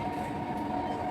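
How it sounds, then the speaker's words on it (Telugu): A Chennai metro train at an underground station on the airport line, heard as a steady loud rail rumble with a sustained hum filling the whole moment, no voices. "దీని లోపల ట్రైన్ వస్తుంది"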